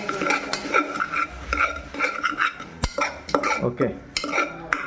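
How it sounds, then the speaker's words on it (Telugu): A spoon stirs oil into a tomato mixture in a pan, giving repeated scraping and clinking strokes in a steady rhythm, close and moderately loud, with a faint sizzle underneath. "ఆయిల్ వేసి ఒకసారి బాగా కలబెట్టేద్దాం మనము"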